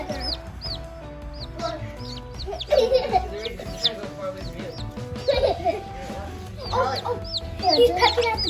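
Young backyard chicks cheep and cluck constantly in a lively, close chorus of high repeated chirps, with children's voices talking now and then in between.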